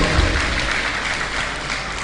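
Applause from an audience clapping for girls honored for good results at an excellence-day ceremony, a steady, close wash of many hands with no individual claps standing out.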